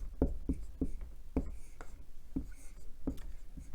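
A pen writing math intervals by hand on paper, a series of short scratchy strokes in an uneven rhythm, close and fairly clear with no talking.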